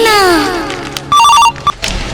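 A telephone rings in short repeated electronic bursts for about half a second, loud and close, with a whistling tone sweeping down beforehand and brief noise after.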